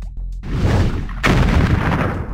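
A tank cannon fires in the children's cartoon adventure game Puppy Patrol, giving a loud, sustained booming blast with a second heavy burst midway that rumbles on to the end.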